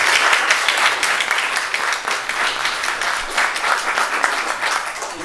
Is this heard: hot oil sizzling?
no